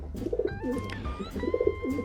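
Racing pigeons from an elite breeding loft cooing close by, with repeated throaty rolling coos layered over one another in a steady, overlapping rhythm.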